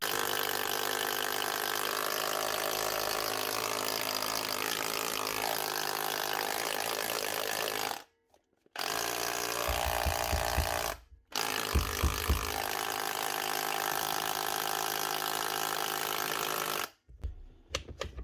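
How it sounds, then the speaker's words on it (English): An older brushed Dewalt DCH253 SDS rotary hammer drill, which reportedly shuts down at times, runs loud with a harsh rapid hammering rattle in long bursts, stopping briefly twice with short thuds before restarting. "Hammer's definitely working anyway. She's loud enough."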